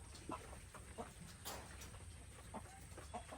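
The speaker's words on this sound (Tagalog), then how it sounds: "Yan yung mga manok." Chickens on a farm cluck faintly in scattered short bursts against a quiet, low background.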